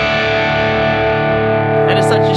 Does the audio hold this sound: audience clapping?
no